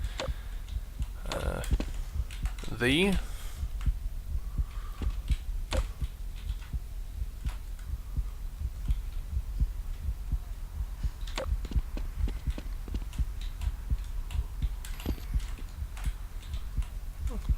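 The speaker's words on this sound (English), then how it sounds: "that's supposed to be my heartbeat" A faint, steady heartbeat thumps in a quiet video game map, soft low pulses repeating at an even rhythm over a dim background with a few scattered ticks.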